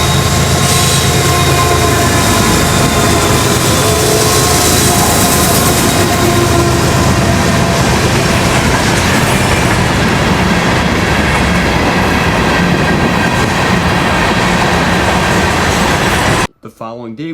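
Florida East Coast Railway freight train 101 rolling past at Pompano, a loud continuous rumble with rhythmic clickety-clack of wheels over rail joints, holding steady for about sixteen seconds before cutting off abruptly.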